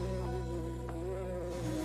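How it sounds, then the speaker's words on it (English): A bee buzzes in a classroom as a low, steady droning hum that stays fairly faint and continuous throughout the short stretch, with no speech. "someone get rid of that bee"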